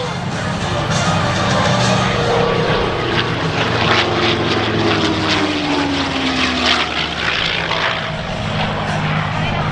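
A World War II era North American P-51 Mustang propeller fighter flies past at an airshow with a loud, continuous engine drone whose pitch slowly shifts. Faint crowd sounds sit underneath.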